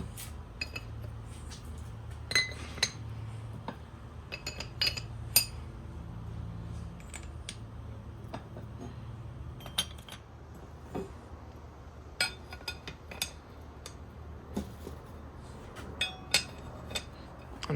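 Metal camshafts are set into a Honda H22 VTEC cylinder head, giving scattered light metallic clinks and knocks at irregular intervals over a low, quiet room hum.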